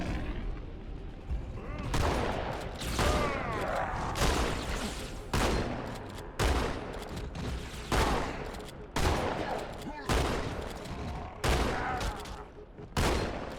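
Repeated heavy blasts of shotgun fire from Halo 2 boom out in a roughly regular rhythm about every second or two, each loud close shot followed by a short reverberating tail.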